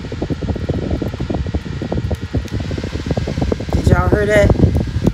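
A portable neck fan with layered fan blades whirs steadily and close, a continuous airy hum, while a person talks over it.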